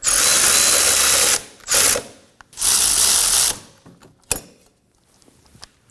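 Ratchet snugging the hub assembly bolts on a 2016-2020 Kia Sorento rear wheel bearing job: two long bursts of rapid, loud clicking with a shorter burst between, then a few sharp clanks and quiet.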